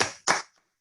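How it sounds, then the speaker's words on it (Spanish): Two quick hand claps ring out at an online meeting, sharp and close, each decaying fast into silence. "un aplauso para Amado"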